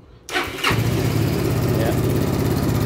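A Benelli Zafferano scooter, checked for a CKP sensor fault, cranks briefly with the starter and then catches, settling into a steady, loud, close idle with no one speaking.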